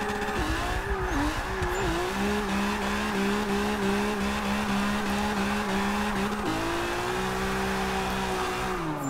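A car in Forza 6 drifts with a reverse entry, its engine droning loud and steady with rising and falling revs and gear shifts, while tire squeal runs underneath throughout.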